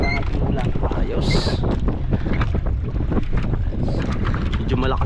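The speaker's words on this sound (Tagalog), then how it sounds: "Medyo malakas lang ang hangin mga bok." Strong wind buffets the microphone on a fishing boat at sea during the cold northeast monsoon, a loud continuous roar with gusts, while people talk over it.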